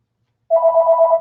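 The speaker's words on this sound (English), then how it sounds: "Please excuse our phone." A telephone rings once in a single short electronic trill, loud and close, with no talk over it.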